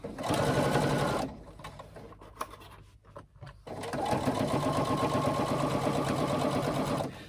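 A sewing machine stitches a 3/8 inch seam joining the band to the main body of a carry-all tote bag, running steadily, pausing briefly amid light handling clicks, then running again at a constant, close hum.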